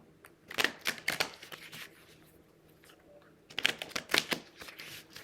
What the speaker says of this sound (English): Let me ruffle shuffle these cards some